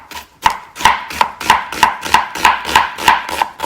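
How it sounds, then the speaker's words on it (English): A knife chops onion on a board in a steady rhythm of about ten sharp, close, evenly spaced strikes, loud and clear with no talking. "So the first thing I'm gonna chop is my onion."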